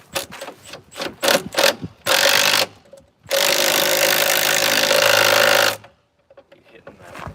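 An impact wrench fastening hardware during a boat jet drive installation, with short bursts of rattling hammering followed by a long sustained run, loud and close, between brief pauses.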